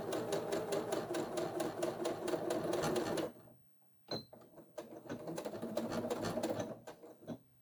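A sewing machine stitches a pleated fabric pouch in a steady rapid run, stops briefly, then starts again with a few single stitches before settling into another fast burst.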